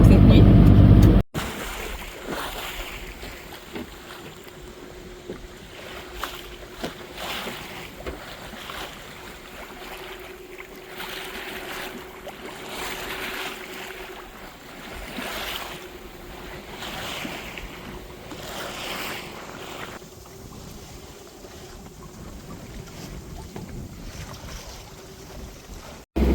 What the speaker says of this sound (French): Ça fait qu'on a fallu mettre un peu de moteur.